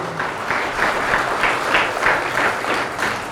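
An audience at an Indonesian talk on love breaks into steady, dense applause, a continuous wash of many hands clapping at even loudness throughout, with no voices over it.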